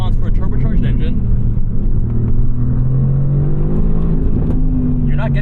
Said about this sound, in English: You can hear that exhaust without any issue.